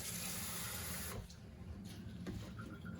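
Tap water runs steadily from a faucet into a container for about a second, then stops, leaving quieter room sounds with faint clinks during a water ionizer demonstration.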